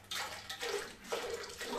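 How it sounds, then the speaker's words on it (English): Used acid splashing as it is poured back into a container during a scuba tank restoration, a steady close liquid gush with a short break partway through. "So we take all that nice acid and dump it back into the container."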